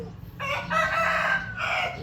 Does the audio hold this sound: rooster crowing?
yes